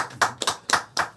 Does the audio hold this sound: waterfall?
no